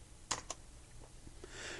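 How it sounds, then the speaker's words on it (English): A few quick keystrokes on a computer keyboard as a command is typed at a terminal program prompt: faint, sparse clicks close to the microphone over a low background hiss. "I'm going to type PROG 0, P-R-O-G 0."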